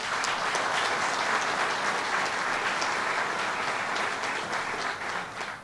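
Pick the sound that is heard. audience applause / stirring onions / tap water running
audience applause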